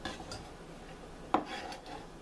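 A small metal pan is handled while onion is added for broccoli soup, giving a sharp clink of metal and light scraping against a quiet kitchen background, with no talk.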